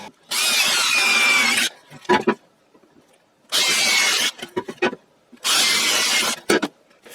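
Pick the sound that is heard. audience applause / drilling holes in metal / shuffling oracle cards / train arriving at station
drilling holes in metal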